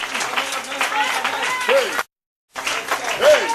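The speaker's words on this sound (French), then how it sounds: "Give to the Lord a clap of hands." A church congregation claps hands in praise under loud singing and shouting voices. The rhythmic clapping runs through the worship, broken by a brief cut to silence midway.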